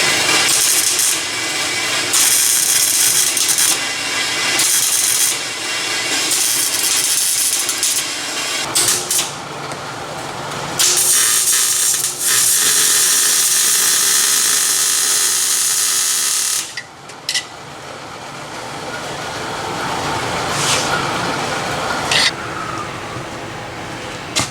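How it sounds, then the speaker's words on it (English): Exhaust pipes for a Square Body C10 custom exhaust being cut: a loud, steady grinding, rasping cutter roar runs nearly throughout, shifting in pitch as the blade bites, with brief dips and a short pause near the end. "So let me start cutting some pipes and we'll start gluing them together."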